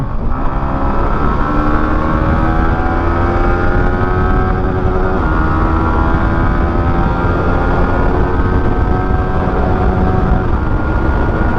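A Yamaha MT-15 version 2 motorcycle with a loud aftermarket exhaust roars steadily under hard acceleration, its engine pitch climbing through the gears, loud and close for the whole stretch with no voices.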